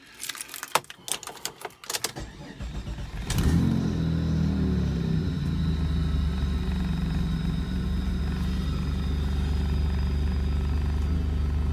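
Keys jangle and clatter briefly, then a car engine starts with a sharp crank at about three seconds and settles into a steady, close idle rumble that carries on to the end, with no talk.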